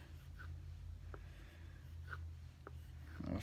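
A carving knife drawn across a FlexCut Slipstrop leather strop, a few soft, brief rasping strokes spaced about half a second apart over a steady low hum, close and fairly quiet.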